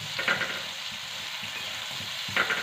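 Chopped green chillies frying in hot oil for a boiled lemon-chilli pickle, a steady close sizzle with two brief louder stirring scrapes, no voices.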